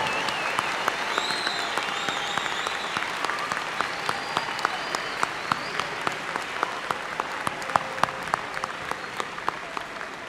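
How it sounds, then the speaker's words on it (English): A large audience at the West Texas A&M University August 2018 commencement applauds graduate degree recipients, giving dense sustained clapping that fills a hall, steady and loud throughout. "Let's have a round of applause for our August 2018 graduate degree recipients from West Texas A&M"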